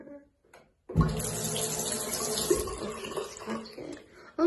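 Water from a hotel room sink tap in London bursts on after about a second and keeps pouring in a steady, fairly close splashing rush, with a faint knock near the end.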